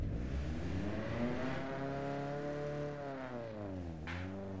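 Japanese car engine revving in a racing video game, a close, steady harmonic drone that climbs and dips through several rev changes with no talking.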